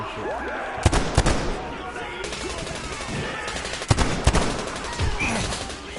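Gunfire in the video game Metro Exodus: several sharp, loud shots in scattered bursts over a busy background of game sounds and effects.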